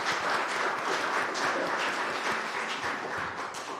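Steady applause from the audience fills a city council work session in Forest Grove, a dense, even wash of many hands clapping that holds for several seconds and eases slightly at the end.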